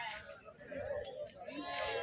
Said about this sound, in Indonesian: Ito, mga liliit na kambing.